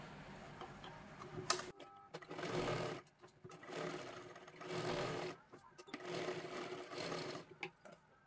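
A sewing machine stitches the back side of a blouse in several bursts, running and pausing repeatedly, with quiet handling noises between runs at a low, close level.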